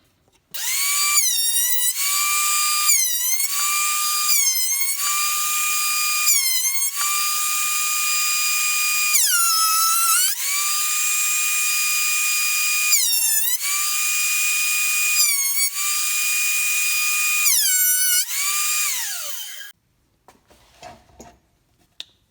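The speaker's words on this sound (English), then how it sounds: "Back through the planer a couple more times, then we're on to the final steps." Wooden cutting board fed repeatedly through a planer: a loud, steady whining motor with a brief dip and roar each time the board passes the blades, then the machine spins down to quiet.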